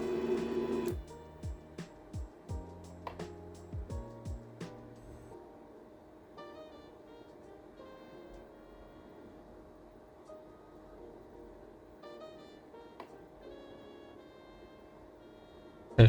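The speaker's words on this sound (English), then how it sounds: "the printer is moving really fast" An Ender 3 V3 SE 3D printer moves fast, its stepper motors chirping and whining in quick pitched sweeps with sharp clicks early on, then settling into a quieter, steadier hum.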